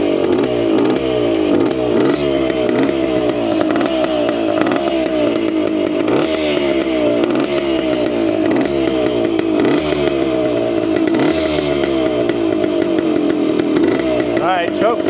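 A Wankel rotary engine motorcycle runs with its choke off, giving a loud close rough idle with a steady pulsing rhythm and periodic bursts of revving throughout.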